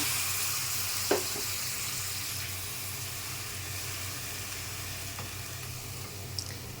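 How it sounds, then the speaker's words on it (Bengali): Hot water poured onto onion, garlic and ginger frying in a pan sizzles in a steady, close hiss throughout, with a few faint clicks and stirring knocks and no talking. "পেঁয়াজ রসুন আদাটা ভাজা ভাজা হয়ে গেছে পুড়ে যাবে তার জন্য একটু গরম জল দিয়ে দিলাম সামান্য"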